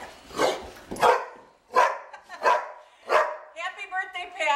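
Dogs barking and yipping in a series of about five loud, close barks at an irregular pace, ending with a higher whining, whimpering run.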